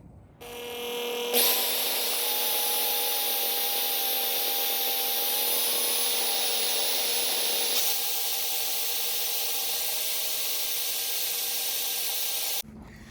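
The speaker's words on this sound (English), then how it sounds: "I'm going to drill now." A power drill drilling a hole in a 2005-09 Ford Mustang door whirs in a steady high-pitched run for several seconds, its pitch dropping midway as it bites, then stops abruptly.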